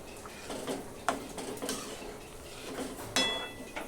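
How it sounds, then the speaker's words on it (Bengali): A spoon scrapes and clinks against a pot as garam masala is stirred into a cooking curry of elephant foot yam with egg, giving scattered close metallic taps and knocks with no talking. "গরম মশলাটা একটু নাড়াচাড়া দিয়ে মিশিয়ে নিলাম"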